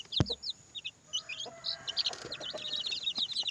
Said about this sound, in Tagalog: sisiw na black astrolop so mayroon tayo mga native chicken dito